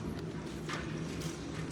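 A ridden horse walks on an arena track, its hooves giving soft, steady clip-clops close by against a low background rumble, with no talk.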